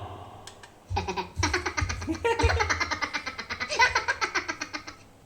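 A karaoke mixer plays a canned laughter sound effect: a burst of rhythmic, pulsing ha-ha laughs that runs for several seconds, loud and close, with a brief electronic click at the start.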